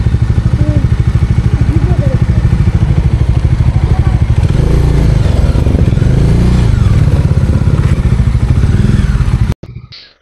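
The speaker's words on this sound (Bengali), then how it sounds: "তো আমরা বাইক পার্ক করে রাখলাম" Motorcycle engine running close and loud on a tour ride in Pelling, idling and revving with clatter before cutting off abruptly as the bike is parked.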